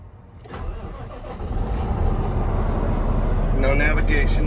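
A Cummins diesel engine in a tandem/tridem straight truck with an Allison transmission cranks and fires, then settles into a loud, steady rumbling idle close by, with faint talk at the start.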